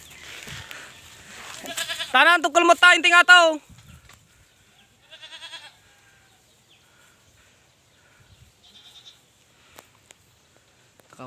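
A goat on a farm lets out a loud, wavering bleat lasting over a second in sweltering weather, followed by a softer call and scattered faint bird chirps, while a person speaks briefly nearby.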